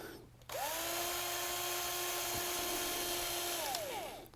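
A powered driver whirs steadily while removing Phillips screws from an iRobot Roomba S9+ robot vacuum, a close continuous motor whine of about three seconds that spins up and winds down, heard alone.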